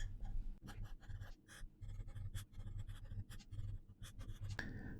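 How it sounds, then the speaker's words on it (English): Pen or marker scratching out a math problem on paper or a board during a lesson on power series, quick irregular strokes close and clear with no talking. "So let's write it down."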